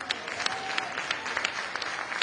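An audience claps steadily during a card-trick performance, a brief patter of many hands at moderate distance, fairly quiet and even.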